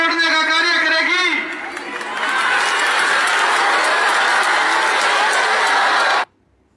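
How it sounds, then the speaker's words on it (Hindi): A dense religious gathering claps and cheers slogans in a broad, steady wash of crowd noise lasting several seconds, with a louder single voice at the start before the applause swells and then cuts off abruptly. "सामने मूर्खों की भीड़ की तालियां, उनके जयकारे तो आप सुन ही रहे हैं"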